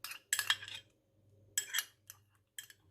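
A spoon works through a yogurt batter in a bowl, producing short bursts of scraping and clinking strokes separated by brief pauses, close and fairly quiet.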